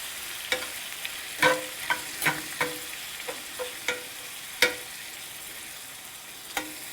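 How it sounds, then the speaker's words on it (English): Beef gelatin melts into a hot pot of ground beef soup; a soft, even hiss runs throughout, punctuated by scattered clinks and knocks of a utensil against the pot. "And then I add some of my beef Jello. Let it melt."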